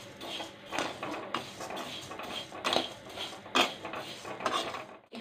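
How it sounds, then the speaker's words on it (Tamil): Baby food grain powder dry-roasting in a pan, stirred continuously, giving repeated dry rasping scrapes of the spoon against the pan at an uneven rhythm, close and fairly loud. "இது வந்து நல்லா அப்படியே கைவிடாமல் வறுக்கணுங்க"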